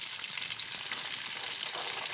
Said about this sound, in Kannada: ಆನಂತರ ಏನೈತಿ ಬೆಳ್ಳುಳ್ಳಿ ಹಾಕ್ಕೋಬೇಕು